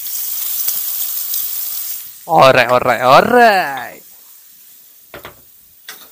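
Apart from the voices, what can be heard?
shallots and garlic frying in a pan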